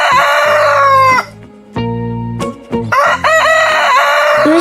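A rooster crows loudly and close by in bursts with brief breaks, set against a steady sustained tonal backdrop that fills the pauses.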